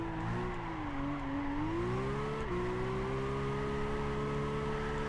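A Blitz Skyline with an RB26 engine in Gran Turismo 5 holds a steady drone, then climbs in pitch as the revs rise, dips briefly and settles into a sustained high hum at moderate loudness.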